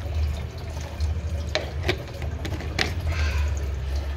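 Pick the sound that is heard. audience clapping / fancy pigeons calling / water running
water running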